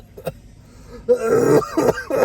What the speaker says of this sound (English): Can you stop fucking coughing?